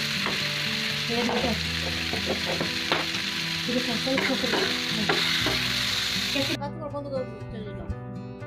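Steady loud sizzling of chicken and capsicum stir-frying in a hot pan, with frequent scraping and clinking of a spatula stirring it; background music joins near the end.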